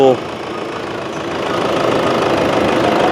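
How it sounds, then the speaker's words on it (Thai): A Toyota Fortuner diesel engine with piezo injectors idles close by, loud and steady with a rough, slightly uneven knocking rumble throughout. "สังเกตได้ว่าเครื่องยนต์สั่นนะครับ"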